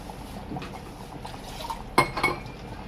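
Water pours and splashes into a pot of mutton curry, followed by a couple of sharp metallic clinks of a utensil against the pan.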